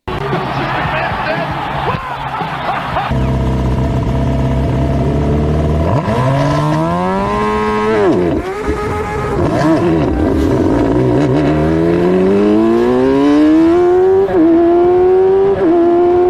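An F1000 race car engine idles loudly at a race start, then revs up and down in rising and falling sweeps, close and continuous.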